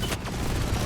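A grenade explodes in the sci-fi shooter Deep Rock Galactic Rogue Core, producing a short, dense, booming blast that fills the moment at close range without any speech.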